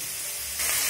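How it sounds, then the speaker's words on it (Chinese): Clams stir-frying in a wok over high heat, a dense steady sizzle that swells louder partway through, close and alone without talk. "紧接着蛤蜊下， 全程大火哦"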